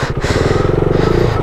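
KTM RC390 motorcycle riding on a winter road in Kashmir, its engine giving a steady, loud, close drone with a throbbing pulse throughout.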